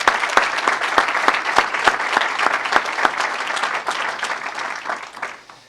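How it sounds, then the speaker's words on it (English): A round of applause for the players at a 2013 Crew youth soccer national signing day, a close crowd clapping steadily with a few sharp individual claps standing out, fading slightly toward the end. "I'd like to give all of the players one more round of applause"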